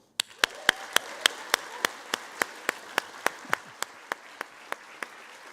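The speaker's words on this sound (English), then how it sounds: "I think that you all deserve a round of applause" Audience applause at an opening ceremony, heard as evenly spaced, sharp claps at a steady rhythm over a soft, continuous crowd murmur, holding a consistent loudness throughout.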